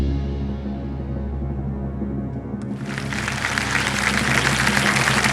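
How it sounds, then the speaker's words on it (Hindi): A studio audience on a televised quiz show breaks into applause partway through, swelling into a loud, sustained wash of clapping over a low background hum. "ताली क्यों बज रही है?"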